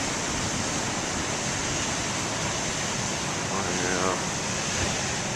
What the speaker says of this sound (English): the only thunder you've been hearing this year is the crashing of the waves